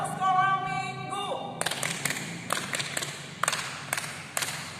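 Children clap the Sunday school clap during an online HKBP Moria Sunday school service, a run of sharp clap bursts in a rhythmic pattern that follows a short sung or voiced tone.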